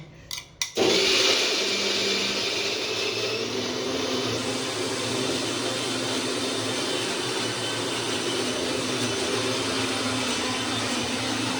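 A kitchen mixer grinder grinding coarse besan starts after a few clicks, then runs with a loud, steady, high whirring roar that holds unbroken for over ten seconds.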